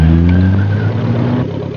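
A 1970s Audi rally car on a stage in a Lebanon–Syria rally, its engine a loud, close mid-pitched drone that holds steady, then eases slightly near the end.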